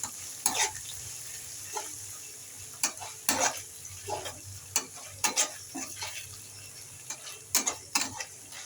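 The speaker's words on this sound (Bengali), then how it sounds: "পেঁয়াজ আদা রসুন বাটা আমি ভালো করে ভেজে নিয়েছি" A paste of onion, ginger and garlic fries gently over a low flame with a quiet sizzle. Repeated sharp spatula scrapes and clacks come in an uneven rhythm over it.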